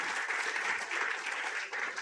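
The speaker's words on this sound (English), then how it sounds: "give him a clap. He deserves it." An audience at a sailing regatta awards event claps for a team member, a steady, fairly faint applause heard from a distance that lasts throughout.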